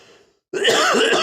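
A cough and throat clearing from a person with a cold brought on by the weather, one loud burst lasting over half a second after a near-silent pause.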